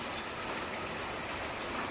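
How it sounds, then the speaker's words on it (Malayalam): Dense, steady heavy rain hisses continuously near the Guruvayur temple, a constant wash of falling water with no pauses. "ഭയങ്കര മഴ"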